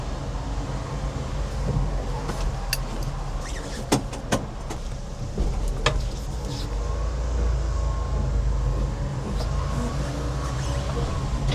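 A mini truck pulls away in first gear, its engine and drivetrain droning steadily from inside the cab with a few sharp clicks and knocks over the hum, getting slightly louder as it moves off.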